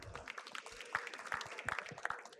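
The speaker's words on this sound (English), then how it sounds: "Can we have one more round of applause again?" Sparse, quiet applause from a seated audience in a conference hall, individual claps standing out against a thin background, with occasional louder bursts.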